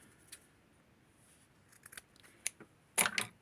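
Scissors snip through a piece of felt, a few quiet scattered clicks followed by a louder, quick double cut close by, in an otherwise hushed room.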